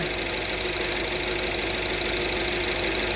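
An Audi A8 D4 4.2 FSI engine idles steadily and close from cold, a constant even hum with a faint rattle, unchanging throughout with no voices.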